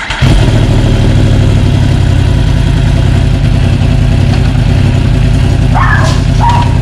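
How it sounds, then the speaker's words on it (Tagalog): A 2020 Yamaha R1 with its cross-plane crank engine runs loud and close, a steady deep rumble holding throughout with a couple of brief higher chirps near the end. "Testingin natin tong Yamaha R1."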